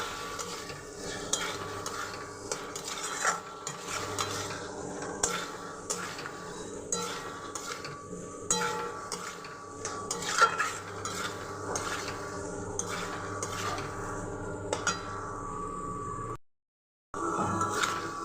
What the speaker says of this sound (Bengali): দিয়ে আবারও ভালো করে নাড়াচাড়া করে নিতে হবে